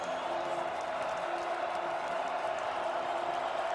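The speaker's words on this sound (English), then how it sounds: "This crowd's getting loud on 3rd down." A football stadium crowd roars steadily and loudly on third down at an NCAA FCS Championship quarterfinal between Stephen F. Austin and Montana State, a dense, unbroken wash of distant voices that holds for the whole stretch.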